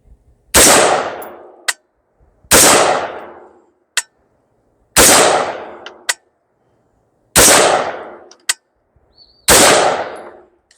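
Five loud, sharp rifle shots from a Bersa BAR15 AR-style rifle ring out at an outdoor range, evenly spaced about two seconds apart, each with a short echoing decay and a faint metallic click after it.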